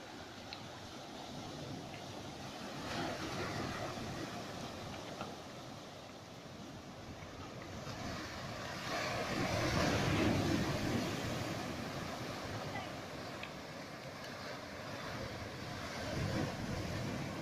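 Sea waves lap against the shore at the Fenniaolin fishing harbour in Dong'ao, Taiwan, a soft continuous wash with slow swells rising and easing, mixed with light wind noise, fairly faint and without speech.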